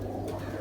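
A Teddy pigeon of the old Ferozpuri '29 number' breed gives one short, soft coo over a steady low background hum.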